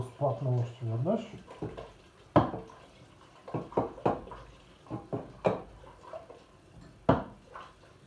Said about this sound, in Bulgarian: Наливам студена вода, да го изплакна още веднъж.